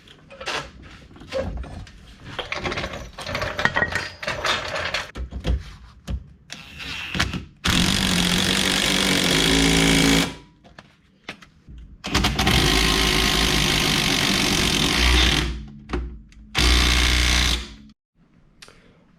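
A reciprocating saw cuts the worn trailing arm bushings out of a Saab 9-5, rasping loudly in three sustained bursts, with clanks and handling noises before the first cut.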